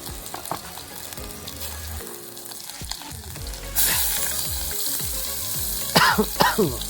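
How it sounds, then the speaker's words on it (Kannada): Onions sizzle in hot oil in a pan over a campfire at an outdoor tent camp, a steady close hiss with scraping stirs, the frying growing louder and denser midway, with a few clinks of the utensil. "ಈರುಳ್ಳಿ ಹಾಕ್ತಾಯಿದ್ದೀನಿ. ಈರುಳ್ಳಿನ ಸ್ವಲ್ಪ ಫ್ರೈ ಮಾಡಿ"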